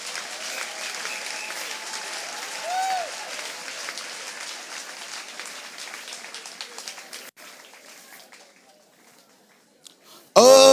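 Applause from a church congregation acclaiming the word of God during a sermon in Gabon, a steady wash of clapping that thins out gradually and stops before a loud burst at the very end.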